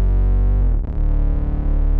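Distorted bass from the Slate Digital Infinity Bass plugin holds one loud, buzzy sustained note whose harmonics wobble and jump briefly mid-note, with no voices over it.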